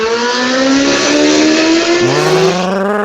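A car engine revs hard and loud in a sustained high whine, pitch climbing then dropping and rising again with a gear change, continuous throughout with no talk.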